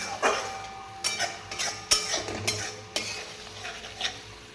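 A utensil stirs sour yogurt through a potato and pointed gourd curry in a pan: soft, irregular clinks and scrapes over a low background sizzle, close by and fairly quiet, with no talking.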